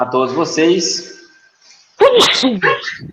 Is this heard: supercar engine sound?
no